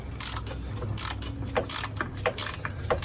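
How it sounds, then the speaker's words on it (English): A ratchet with wobble sockets loosening an engine bolt on a 2008 Chevrolet Malibu, repeated clicking pawl bursts in an uneven rhythm, close and fairly loud, without talk. "Now we're gonna have to bend our ratchet just a little."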